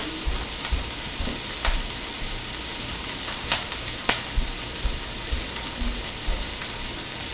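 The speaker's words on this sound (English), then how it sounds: "Hopefully the sizzle isn't too loud and you should be able to hear me okay" Steady, loud sizzling of food frying in a pan, a continuous crackling hiss with occasional sharper pops throughout.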